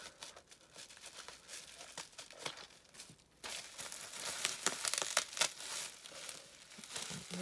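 Close, continuous crinkling and ripping of packaging and sticky tape on an advent calendar box, scratchy and uneven, growing busier and louder partway through, with no talking.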